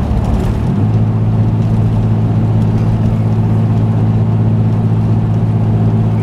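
Supercharged 2001 Toyota 4Runner with a Dynomax VT exhaust, running lean, idling close by: a deep, steady droning rumble that settles into an even burble after a brief revving change at the start, with no talk.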